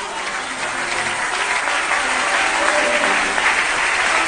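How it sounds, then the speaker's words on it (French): An audience at a prophetic church service applauds loudly and steadily for the queen, a dense wall of clapping mixed with cheers that holds for several seconds without letting up. "Acclamez pour la queen."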